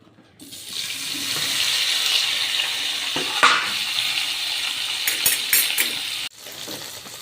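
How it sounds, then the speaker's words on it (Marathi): Paneer shallow frying in a little oil in a kadai gives a steady, fairly loud sizzling hiss that runs for several seconds, with a few sharp spatters and crackles near the end before it drops away. "त्यामध्ये मी थोडंसं तेल टाकून पनीर थोडंसं शालो फ्राय करणार आहे"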